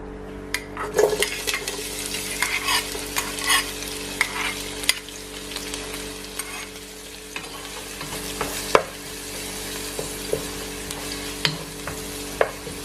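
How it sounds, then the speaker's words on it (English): Onion and garlic sauté in coconut oil in a pan for Dominica-style shrimp callaloo, giving a steady close sizzle with repeated stirring scrapes and light utensil clinks against the pot. "Let it saute for a few."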